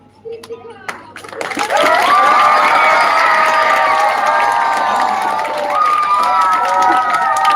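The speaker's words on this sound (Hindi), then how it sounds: "तो तालियां बजाइए।" Loud crowd clapping and cheering at a welcome ceremony for district and state medalists and their coach, starting with scattered claps and building into sustained whoops and shouts from many voices.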